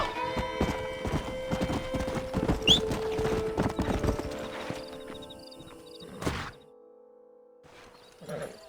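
Horse hooves clip-clopping at a steady gallop in the Red Dead Redemption video game, with a whinny and thuds as the horse slows to a stop, followed by a sudden quiet.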